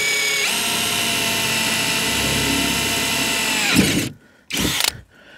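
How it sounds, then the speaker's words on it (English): Close, loud power drill boring a hole through the tubing of a fishing kayak, a steady high whine held for several seconds, then cutting out and revving briefly twice more. "So that's just drilled the top hole"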